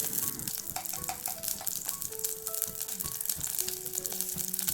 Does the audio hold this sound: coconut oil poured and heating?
yes